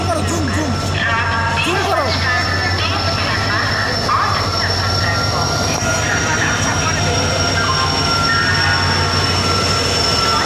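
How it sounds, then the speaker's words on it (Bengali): An SMVT Bengaluru Superfast Express train arrives at a station platform, hauled by an EMD locomotive, with a loud, continuous rumble of rolling cars, wheel squeals and a hum, while voices carry faintly in the background. "ট্রেন ঢুকে গেছে আমাদের এসএমবিটি বেঙ্গালুরু সুপারফাস্ট এক্সপ্রেস।"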